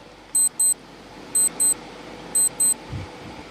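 An on-screen countdown timer sounding three evenly spaced pairs of high electronic beeps, each pair about a second apart, over a steady low room hum with a soft thump near the end.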